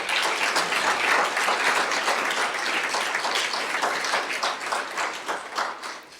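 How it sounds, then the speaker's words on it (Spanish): A church congregation applauds loudly and steadily after a sermon, a dense wash of many hands clapping that fades slightly toward the end. "Dale un fuerte aplauso a Dios."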